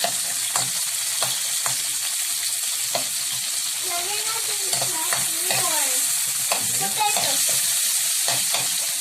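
Tomatoes stirred in a frying pan for tinola, a steady oil sizzle with repeated scraping strokes of the spoon, close and alone without voices.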